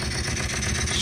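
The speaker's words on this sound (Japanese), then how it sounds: "エンジンかかりました。" Suzuki Super Mole engine running steadily just after starting, air cleaner box removed, a loud close low rumble with even idle pulses and no talk.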